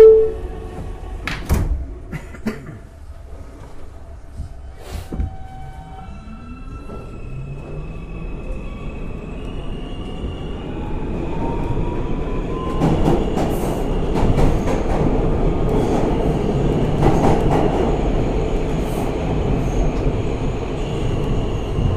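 An R160A subway train on the NYC E line, at West 4th Street, closes its doors with thumps and chimes, then pulls away, its motor tone rising and the wheels rumbling louder and steadily as it picks up speed.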